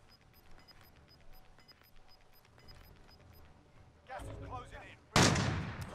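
Gunfire in the shooter game Modern Warfare Warzone, a faint distant patter at first, then two loud close bursts near the end, the last one a sharp crack that rings out.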